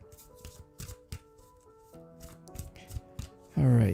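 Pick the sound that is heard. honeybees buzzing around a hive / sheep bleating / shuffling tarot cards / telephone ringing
shuffling tarot cards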